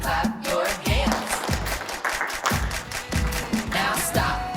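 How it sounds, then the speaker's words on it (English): A crowd claps along in a steady rhythm for several seconds, loud and close, with the beats running together into a continuous wash of hand claps. "And everybody clap your hands"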